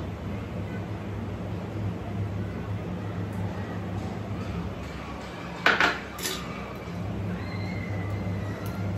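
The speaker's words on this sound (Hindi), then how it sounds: "मैंने गैस पे पैन रख दिया है" A pan set down on a gas stove gives a single sharp metallic clank at close range, followed by a softer knock, over a steady low hum of background noise.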